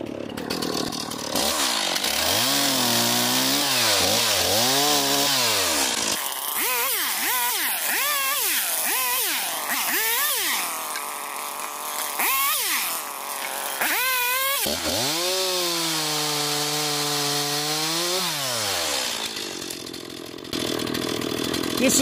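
Chainsaw cutting birch firewood logs, the engine revving loudly in repeated rising and falling bursts, then holding a long steady high cut before dropping back to idle.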